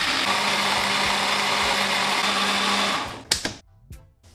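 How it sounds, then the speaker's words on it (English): A blender whirs steadily as it purees a sauce of lime juice, green chili, olive oil, salt and pepper, running loud and even for about three seconds before cutting off, followed by a few clunks of the jar. "Blend this until nice and smooth."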